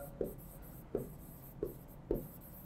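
Four separate hand-writing strokes, probably chalk or marker on a board, land at a steady spacing during a chemistry lecture. They are close and crisp over a quiet room background, and nobody speaks.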